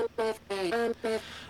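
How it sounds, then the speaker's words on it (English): Chopped female acapella vowel fragments arranged into a melodic vocal chop for a remix intro, several short pitched bursts in a stuttering rhythm separated by brief gaps. "in the intro there is this main melody chop"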